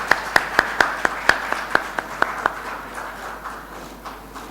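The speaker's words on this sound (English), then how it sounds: "Please give a big round of applause for our speaker" A few people clap sparsely at an accounting seminar on the IFRS 16 lease standard, a dozen distinct claps in an uneven rhythm that fade into faint scattered clapping.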